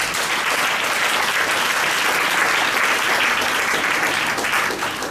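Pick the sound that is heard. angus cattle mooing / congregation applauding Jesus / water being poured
congregation applauding Jesus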